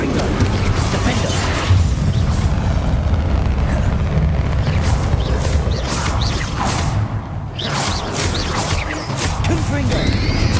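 A Confringo blasting spell in Hogwarts Legacy detonates amid a dense, continuous roar of explosive rumble and whooshing combat noise, loud and sustained throughout, with voices mixed in.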